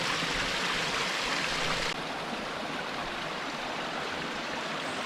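A mountain spring stream on Mount Rainier flows in a steady broadband rush of water, close and continuous, dropping slightly in level partway through.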